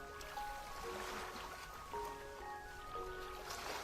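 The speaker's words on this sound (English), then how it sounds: "I could hear the incessant sound of waves rushing against the beach and the poles supporting our cottage." In the Seabed video game, waves rush softly against a beach and the poles holding up a cottage. The wash is faint and continuous, beneath gentle sustained musical tones, with no talking.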